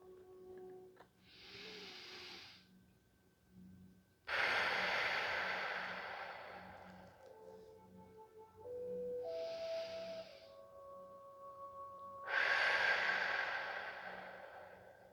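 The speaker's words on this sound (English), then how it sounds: "I am breathing." Slow, deep breaths: long drawn-out inhales and exhales come in four unhurried waves, close and soft, over a faint steady tonal hum with no talking.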